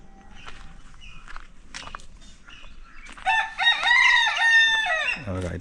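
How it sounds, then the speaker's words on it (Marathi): A rooster crows loudly and close by in a village on a quiet morning. A few soft clucks and rustles come first, then one long rising and falling crow ends the clip. "मात्र कोंबडा पण ओरडतोय, हरवतोय जोरात."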